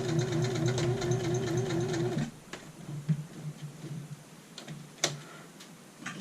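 A domestic sewing machine stitching darts on a skirt runs with a steady whirring buzz for about two seconds, then stops, leaving faint handling clicks and a few light ticks.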